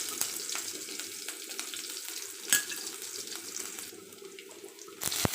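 Onions frying in a pan give a steady, moderately loud sizzle broken by sharp clicks and a few utensil knocks.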